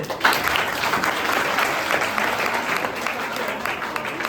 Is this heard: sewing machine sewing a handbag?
no